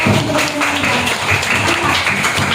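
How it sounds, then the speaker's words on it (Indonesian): A classroom group of students applauding a student group, a dense, steady patter of many hands clapping close by for a few seconds. "kita beri tepuk tangan untuk Kelin yang sudah"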